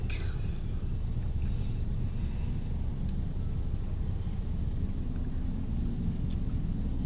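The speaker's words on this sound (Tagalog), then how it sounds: "Tingnan nyo naman, traffic na masyado." Heavy road traffic in Pasay on a rainy Monday morning makes a constant low rumble of engines and tires, steady and unbroken, with no voices.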